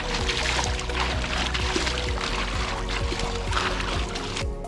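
Water poured over a raised soil bed ahead of transplanting seedlings, a steady close splashing pour with a dribbling texture that runs the whole time.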